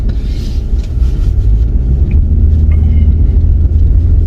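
A BMW M240i drives on a snowy road, producing a loud, continuous low rumble of engine and tires from inside the car with no talk.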